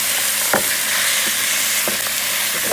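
Ground beef browns in a pan and is broken up with a wooden spoon: a steady close frying hiss with a few dull taps and scrapes from the spoon, and no talking.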